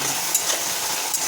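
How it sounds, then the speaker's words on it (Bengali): Tomatoes frying in a pan for butter paneer masala, a loud continuous sizzle with faint stirring scrapes, no voices. "টমেটোগুলো 3-4 মিনিট ধরে নাড়াচাড়া করে একটু ভাজতে হবে"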